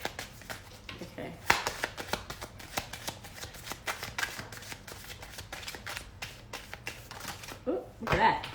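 Tarot cards are shuffled by hand in a quiet room, producing repeated soft riffling clicks and slaps at an irregular rhythm, close and faint, with a voice speaking at times.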